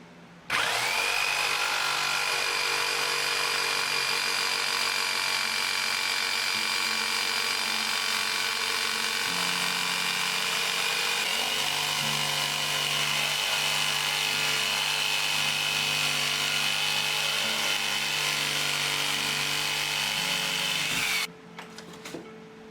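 A power sander working a wooden fishing lure gives a loud, steady, high whine with coarse grinding texture, running continuously for about twenty seconds before cutting off abruptly, with no talking.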